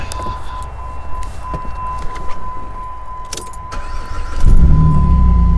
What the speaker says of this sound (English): This is when it says to get in your vehicle and start it.